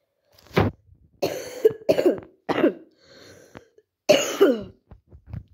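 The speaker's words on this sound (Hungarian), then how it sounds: "hogyha nagyon köhögök, azért, bocsánat, hogyha beleköhögök a videóba" A person coughs repeatedly, a series of sharp close coughs and throat clearings in uneven bursts with brief quiet gaps.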